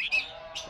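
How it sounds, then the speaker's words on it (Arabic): Kashmiri bulbul chicks giving short high chirps, two brief close calls separated by a short pause, fairly faint, with no talk. "هاي الطيور قدامكم شباب، طيور بعدها أفراخ."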